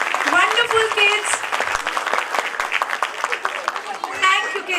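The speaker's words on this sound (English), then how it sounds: "Claps for them." Audience clapping for children at a nursery and playgroup annual day, a spread of applause running under a voice speaking over a microphone.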